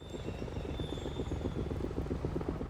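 Steady low rotor thumping with a whining engine tone, continuous and fairly close, with no voices.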